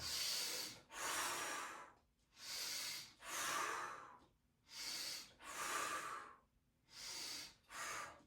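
Bodyflex abdominal exercise breathing: sharp, forceful breaths in and out through the nose and mouth, about eight hissing bursts separated by short silent holds, close and clear with no talking.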